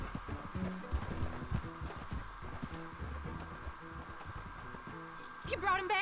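Steady clip-clop of horse hooves trots along at an even rhythm in the video game Red Dead Redemption 2, with a faint musical hum and a brief voice near the end.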